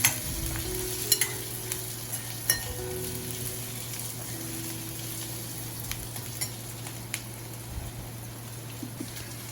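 Diced vegetables, including carrot, frying in a pan for Indo-Chinese veg fried rice, with a steady close sizzle throughout and occasional clicks of stirring against the pan.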